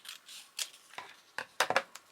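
Scissors snip through journal pages in a few short, crisp cuts, with quiet papery rustles in between and a tight cluster of snips near the end.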